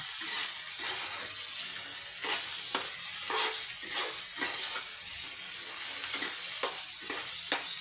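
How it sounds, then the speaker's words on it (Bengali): Green peas fry in a pan over a high gas flame, giving a loud continuous sizzle with regular scraping stirs, and nobody speaks. "গ্যাসটা হাই নিয়ে করে এবার ভেজে নেব"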